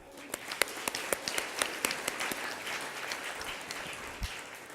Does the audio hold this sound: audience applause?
yes